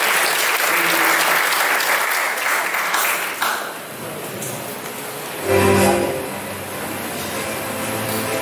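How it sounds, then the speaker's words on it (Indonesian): Audience applause at a youth political school event, dense sustained clapping filling the room, easing midway and then swelling again briefly before continuing. "Tepuk tangan sekali lagi untuk Mas Rahman"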